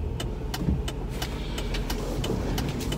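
A car arrives with a low, steady engine rumble close by, broken by repeated sharp clicks or taps at an irregular pace.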